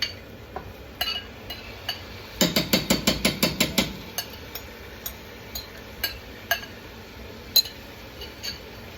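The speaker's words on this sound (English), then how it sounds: "Stir that up, get it all familiar with each other." A spoon scrapes and clinks against a pot while pumpkin and garlic are stirred, a quick run of rhythmic metallic taps followed by sparse scattered knocks, close and fairly quiet.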